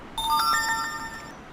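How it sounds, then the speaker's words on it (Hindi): A Flutter local-notifications app plays its alert chime on a phone: a bright multi-tone chime of quick ascending notes ringing together, close and clear, about one second long, with no voices. "नोटिफिकेशन की आवाज़ भी साथ आती है"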